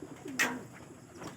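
Racing pigeons coo softly at a loft during trapping after a land training flight, a few brief low coos and a short call, faint and close with quiet background.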